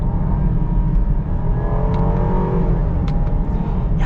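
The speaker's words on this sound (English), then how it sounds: "You can never beat the sound of a Hemi." A 2021 Jeep Grand Cherokee L's 5.7 Hemi V8 revs and accelerates with a steady low rumble, rising in pitch through gear changes, loud and close with no talking.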